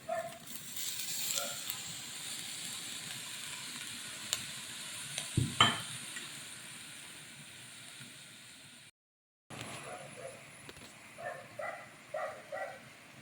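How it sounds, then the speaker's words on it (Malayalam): Chopped bitter gourd and grated coconut sizzle faintly in a hot pan while a utensil stirs and scrapes in short bursts, with a brief gap partway through. "ഇനി നമുക്ക് അരിഞ്ഞു വെച്ചിരിക്കുന്ന പാവയ്ക്ക കൂടെ ഇട്ട് കൊടുക്കാം."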